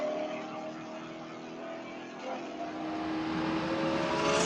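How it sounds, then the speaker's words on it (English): A Spec Corvette V8 screams at high revs on track at Buttonwillow Raceway, a loud, steady onboard engine note that climbs in pitch as it pulls through a gear, with no voices. "Crest the hill, grab a gear, and just let that V8 absolutely scream."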